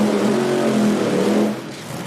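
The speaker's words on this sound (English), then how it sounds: "they fire up the first long wheelbase nitro burning car." Long-wheelbase nitro-burning Top Fuel dragster at an IHRA drag strip firing up, a loud, steady, harsh engine roar that eases off slightly near the end, with no talk.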